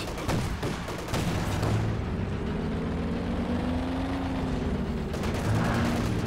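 Field gun fire in the Company of Heroes 2 video game, a loud booming blast near the start followed by continuous rumbling battle noise and mechanical engine drone, with another burst toward the end.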